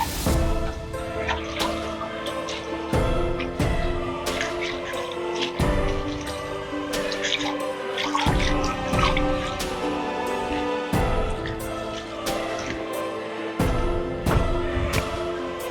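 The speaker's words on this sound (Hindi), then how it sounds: "मैं सोचा चलो एक कचौरा धो देता हूँ थोड़ा" Running water splashes steadily into and over a drinking bowl as it is rinsed, with continuous trickling and dripping broken by brief pauses and small clatters, fairly close and without talk.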